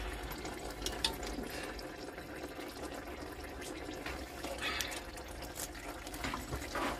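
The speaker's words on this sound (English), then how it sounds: "Draining. I try to avoid getting covered in freaking gearbox fluid" Gearbox fluid drains from a 1994 Mitsubishi Delica L400 2.8 diesel in a faint, steady trickle and splash that goes on throughout, with no talk.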